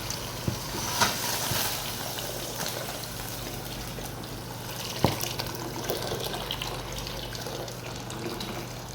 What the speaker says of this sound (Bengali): এখানে পানি ঢালবো গরম পানি